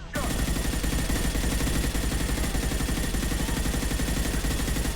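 Rapid, sustained automatic gunfire from the shooter game Mass Effect 2 rattles continuously and loudly from start to finish, with dense overlapping shots and no pause.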